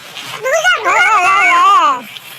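A puppy caged at an illegal dog-breeding operation lets out a loud, drawn-out whimpering whine that rises and wavers for about two seconds, up close.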